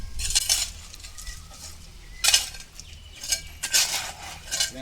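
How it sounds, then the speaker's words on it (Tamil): Cement mortar being mixed by hand with a metal tool at a work site, giving repeated scraping, clinking strokes in irregular bursts, fairly close and moderately loud with no talking. "இது வந்து நம்ம மாப்பிள்ளை கலவை கலக்கிட்டு இருக்கிறாரு"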